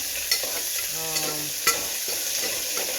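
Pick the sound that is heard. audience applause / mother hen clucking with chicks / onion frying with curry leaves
onion frying with curry leaves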